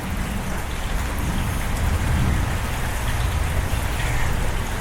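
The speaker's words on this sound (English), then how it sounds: "Now we've got some pretty decent rain coming down" Steady, fairly heavy rain pours down at an outdoor shooting range in January, a dense continuous hiss and patter that fills the scene without letup, with no voices.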